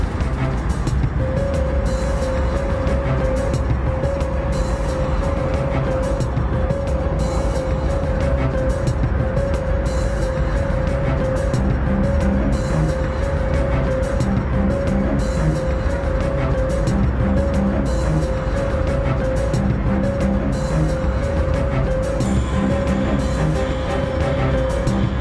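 Heavy road traffic of cars leaving Tehran makes a steady, loud wash of engine and tyre noise, with a sustained horn-like tone running through the middle stretch and no talking.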